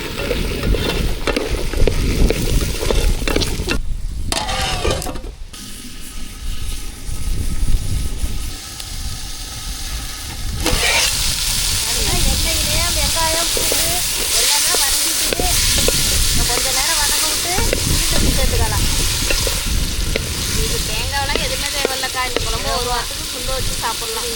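Onion and garlic fry in oil in a pan while being stirred, a continuous close sizzle and hiss with scraping stir sounds and a brief lull midway.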